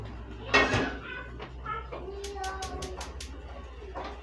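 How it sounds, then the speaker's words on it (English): A big metal frying pan clanks and scrapes nearby in a kitchen, with a sharp clatter early on followed by lighter knocks and clinks. "I'm gonna get my big frying pan out."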